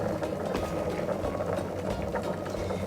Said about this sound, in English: And with the smoke of vegetable, it will be steamed my couscous.